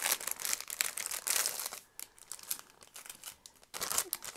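Paper envelopes from a happy mail package are torn open and crinkled close up, with bursts of tearing and rustling that pause briefly midway and then resume, no voices.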